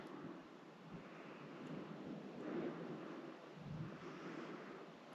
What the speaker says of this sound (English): Just heard more thunder.